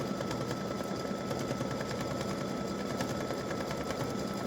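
An embroidery machine stitches out an edge-to-edge butterflies and hibiscus quilting design in variegated green, yellow and pink thread, making a steady, rapid mechanical whir and patter that runs without pause, quiet and unaccompanied by talk.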